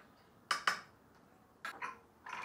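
A spoon clinks and scrapes against a pressure cooker while dal with turmeric is stirred, giving two sharp close metallic knocks followed by softer scraping bursts with quiet gaps between.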